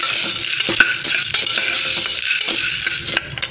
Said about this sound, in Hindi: अब इसको तेल में अच्छे से मिक्स करेंगे